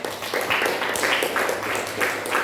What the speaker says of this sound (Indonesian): Tepuk tangan untuk saudara yang baca Alkitab.